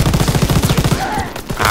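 Rapid, loud machine gun fire from a mounted MG in Call of Duty WW2's first World War 2 campaign mission, a steady rattling burst close up that cuts off near the end.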